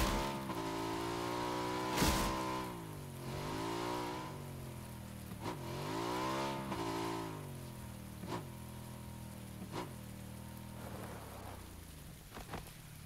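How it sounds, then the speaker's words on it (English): A motorcycle ridden in the video game PUBG, its engine revving up and down in repeated rising and falling sweeps with shifts between, fairly loud and close, no talking. "we found this motorcycle in this garage, and we're just going to book it out of here"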